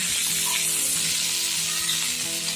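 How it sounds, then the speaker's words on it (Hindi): New-season potatoes and peas frying on a high gas flame, a loud dense sizzle with light stirring underneath, brief and continuous. "इसे हमें गैस फास्ट करके ही मुझे भूनना है"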